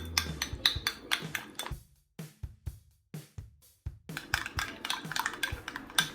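Spoon clinking and scraping against a bowl while stirring yogurt starter with a little salt, a rapid series of close, sharp metallic taps that pauses briefly, resumes in short bursts, then continues steadily, with no talk.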